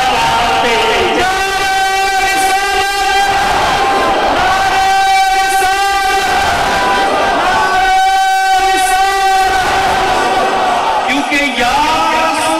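A loud crowd chants the Ya Rasool Allah slogan in unison at a Jashn-e-Wiladat street celebration in Bradford, UK, with repeated rhythmic call phrases rising and falling steadily throughout.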